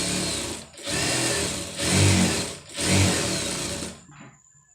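A sewing machine running in steady bursts while stitching a neck design, four whirring runs separated by short pauses, close and loud, then falling quiet.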